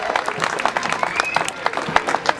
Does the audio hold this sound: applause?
yes